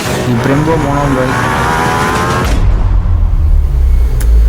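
A 2020 Ducati Panigale V4 rider makes a fast clutchless downshift and brakes hard, with loud engine revs falling away into a rumbling low drone close by.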